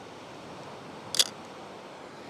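A Pentax K1000 film camera's film advance lever winds once outdoors at a beach, a single short, sharp mechanical click-clunk over steady background hiss.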